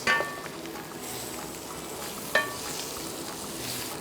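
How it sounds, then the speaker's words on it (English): Roasted vegetables being stirred into a pot of chili soup, a soft sizzling hiss with a couple of light scraping clinks, close and fairly quiet. "So now I'm going to add in my roasted vegetables. Ah, gorgeous. Just mix it."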